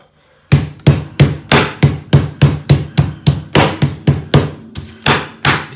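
A meat mallet pounds pork tenderloin escalopes flat on a board: about fourteen sharp, heavy thuds in a steady, fairly quick rhythm, close and loud with no talking.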